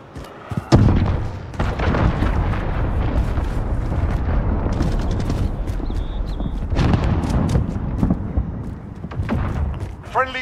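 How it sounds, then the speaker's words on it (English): Cruise missile strikes in the video game Modern Warfare 2019, a dense run of heavy booms and rumbling blasts that roll on for several seconds at high volume, with game announcer voices and weapon noise mixed in. "Allied cruise missile away!"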